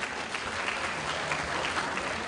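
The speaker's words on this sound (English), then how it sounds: "Give him a clap." Steady applause from a crowd, continuous clapping throughout without any talking.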